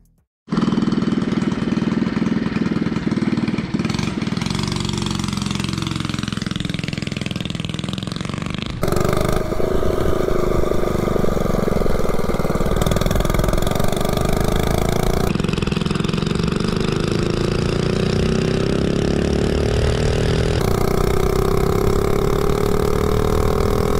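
A 98cc mini bike engine with a geared-up chain ratio runs loud and buzzing close by, holding a rough steady drone that rises in pitch as it accelerates, with abrupt shifts in tone and no talking.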